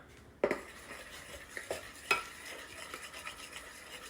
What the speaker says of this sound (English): Now that I have that stirred up,